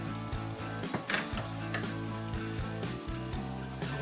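Tomato and onion tipped into a hot pot for a pork rib stew with potatoes and artichokes, giving a steady, dense sizzle throughout with a couple of brief dips, close and fairly loud with no talking.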